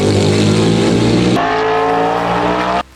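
A NASCAR stock car with its original sequential transmission, running at Le Mans, roars loud and close, holding a dense, high rev before the pitch shifts and then cuts off abruptly near the end.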